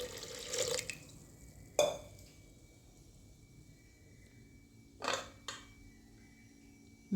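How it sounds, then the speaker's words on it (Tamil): Water is poured into a pressure cooker over garlic, onion and tomato in a home kitchen, coming as a few short splashing bursts separated by quiet gaps, close by and fairly soft. "பூண்டு, வெங்காயம், தக்காளி எல்லாத்தையும் போட்டுட்டு இது எல்லாம் முழுகிற அளவுக்கு தண்ணி ஊற்றிக்குவோம்"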